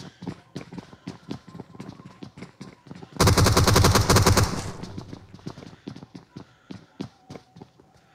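Gunfire in the mobile shooter BGMI: rapid close shots rattle throughout, broken by one loud sustained burst of heavy fire or explosion lasting over a second, then more scattered shots.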